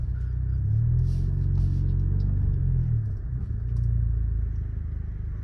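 Deep rumbling drone of an Alfa Romeo Giulia engine fitted with a BMC air filter, swelling as it revs, briefly dipping, then rising again, heard close and loud with no talking.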